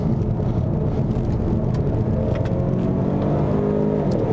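A 2015 Ford Mustang EcoBoost accelerates under throttle on a road drive, a loud, steady engine drone with rising tone heard from inside the car, with no talk.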